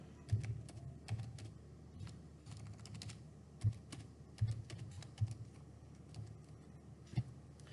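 Keys clatter on a computer keyboard in irregular bursts while an address is entered into an online income tax return form, with a few louder key strikes standing out against a quiet room.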